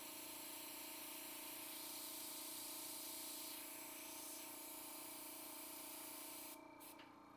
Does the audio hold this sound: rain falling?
no